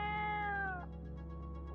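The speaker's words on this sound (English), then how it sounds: "Is there a Dreamlands cat that you are struggling to speak with?" A single cat meow from the Dreamlands in a cyberpunk audio drama, a clear close drawn-out cry that falls in pitch over about a second against a low steady hum.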